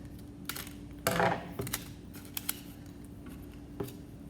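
Scissors snip through folded paper to make a spider web craft, a few short close cuts, one longer crunching cut, then scattered light clicks, quiet with no talking.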